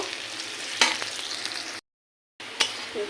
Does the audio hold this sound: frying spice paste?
yes